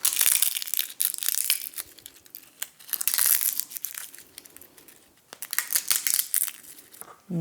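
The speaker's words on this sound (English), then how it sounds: "just crumple them up a little bit or use scissors and snip them up" Dry bay leaves being crumpled by hand, giving crisp crackling and crinkling bursts in uneven clusters with short pauses, close and fairly quiet, no talking.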